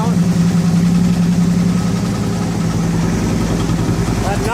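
A 2009 Harley-Davidson Ultra Classic Electra Glide V-twin idles steadily and close after an oil cooler installation, with a loud, continuous low rumble and no break throughout.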